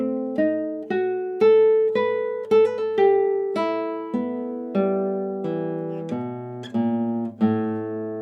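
Classical guitar playing a rest-stroke passage from João Pernambuco's Sons de Carrilhões, with open bass strings ringing beneath a bell-like melody, steady plucked notes over about eight seconds, close and clear, no talking.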